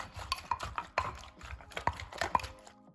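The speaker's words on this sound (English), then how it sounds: "we're gonna pound it down, and at the same time, we'll be using our spoon to kind of turn it" Mortar pounding of carrot and cucumber for Lao spicy cucumber salad, thum mak thang, with a spoon turning the mix between blows; repeated close, dull thuds with scraping and clinks in an uneven rhythm, no talk.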